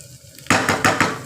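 A spatula scraping and knocking in a pan of dry fish paste being stirred: a faint rustle, then four sharp, evenly spaced metallic scrapes, close and loud, no talk.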